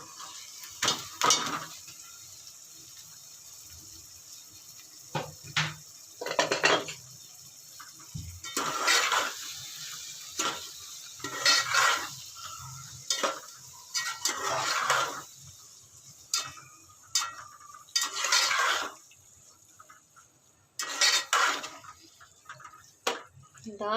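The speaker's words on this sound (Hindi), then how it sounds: "हमने पहले से चने की दाल को बॉईल करके रखा है, ये इसमें डाल देते हैं।" Boiled chana dal tipped into cooked masala in a pot for dal makhani, with clattering spoon and pot knocks, scrapes and soft sizzling in scattered bursts between quiet gaps, a voice speaking at times.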